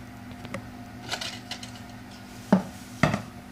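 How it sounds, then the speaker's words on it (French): Egg whites are folded into tiramisu cream in a bowl, giving soft scraping and a few light utensil knocks against the bowl, two clearer taps near the end, close and quiet under a low background hum. "Maintenant, je vais mélanger les blancs d'œufs."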